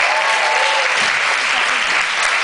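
A comedy show crowd gives loud, dense, sustained applause that fills the room evenly from start to finish.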